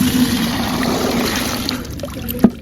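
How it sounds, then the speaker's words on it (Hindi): Water mixed with decomposed cow dung is poured through a kitchen sieve to strain out liquid fertilizer, giving a steady, close trickling splash that thins out, ending with a small clink. "निकालने के बाद इस छन्नी की मदद से इस पानी को हमें छानना"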